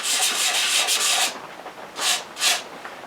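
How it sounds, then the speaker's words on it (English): Hand sanding spots on a colored-rim wooden platter: a steady, close scratchy rubbing for over a second, then two short separate strokes after a pause. "don't be afraid to hand sand some spots"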